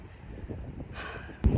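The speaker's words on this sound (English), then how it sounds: "So windy." Low rumbling gusts buffet the microphone outdoors after a run for a moment, ending in a sharp thump of wind noise.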